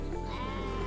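A sheep gives one loud, sustained, wavering bleat close by at the Karakol livestock market, with a busy background murmur underneath.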